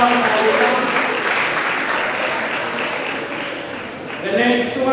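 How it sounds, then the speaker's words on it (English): An audience applauds between speakers at an academic event, steady dense clapping filling the whole stretch and swelling slightly near the end, with a voice briefly audible. "let us applaud"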